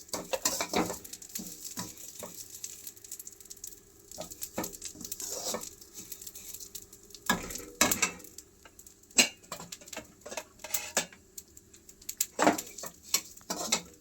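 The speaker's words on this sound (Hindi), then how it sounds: "अलसी कैसे चटर पटर हो रही है ना" Flaxseeds roast in a pan and crackle in scattered sharp pops and ticks, close and fairly quiet, with irregular clusters of crackles spread over a soft background hiss.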